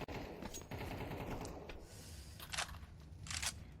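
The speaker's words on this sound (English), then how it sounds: "Quick little spray from Shush to put Norway down" Counter-Strike 2 gunfire in a professional match, a quick spray of rapid shots with sharp bursts standing out near the end over steady game ambience and mixed background noise.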